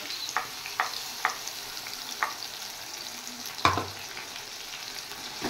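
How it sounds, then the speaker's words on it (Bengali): A paste of chopped tomato, cumin and coriander powder, ginger and green chilli, with salt, turmeric and red chilli powder, fries in a pan with a soft steady sizzle, occasional stirring scrapes and one sharper knock, nearby with no talk. "এবার মশলাটা একটু ভালো করে কষিয়ে নেব।"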